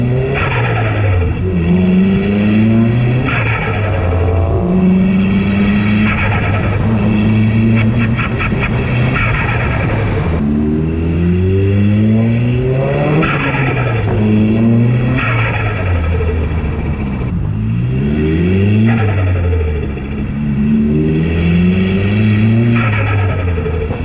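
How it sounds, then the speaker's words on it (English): A turbocharged Nissan Silvia S15 revs repeatedly, engine climbing and dropping in rising sweeps between throttle lifts, loud and close with tire squeal mixed in and no talking. "I'll chuck in some clips as well that I can find of the turbo flutter of this car."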